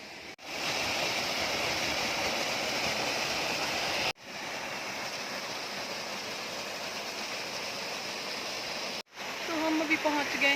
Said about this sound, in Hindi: यहाँ पे है पीछे से वाटरफॉल, छोटा सा वाटरफॉल